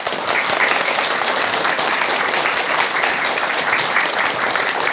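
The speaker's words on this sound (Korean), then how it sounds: "오늘 좋은 말씀 해주신 스님께 여러분 큰 박수 부탁드립니다" A studio audience at a Buddhist talk show applauds a monk, steady dense clapping held at an even level throughout, with no voices over it.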